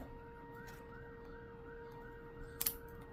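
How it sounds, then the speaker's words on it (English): A faint, distant fire siren wails in slow, repeating rising-and-falling cycles over a quiet indoor background, with a brief sharp clatter near the end. "I always think when I hear our fire siren go off"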